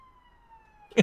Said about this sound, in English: No, that was an ambulance.